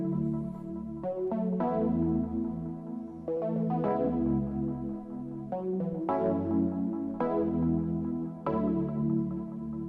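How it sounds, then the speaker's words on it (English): A flange piano synth preset plays a repeating chord pattern with a swirling, sweeping tone and soft attacks, with a steady rhythmic pulse throughout and a trailing delay, continuous and moderately loud with no voices. "And this is just a flange piano preset."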